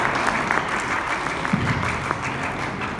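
Students at a university engineering event in Dubai receive a sustained round of applause from an audience, a dense, even wash of clapping that holds steady throughout with faint voices underneath.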